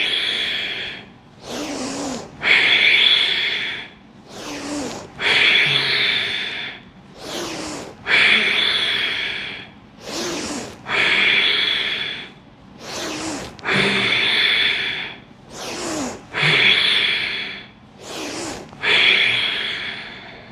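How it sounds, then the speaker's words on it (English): Ujjayi Pranayama breathing during a Tadasana yoga stretch: slow, deep, hissing breaths recorded up close, repeating in a steady cycle of about eight rounds with short pauses between them. "So you saw how I did the breathing"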